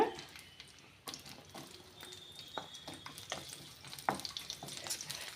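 Onions sautéing in oil in a pan for a raw-banana manchurian, a faint sizzle broken by scattered clinks and stirring taps, with no voices.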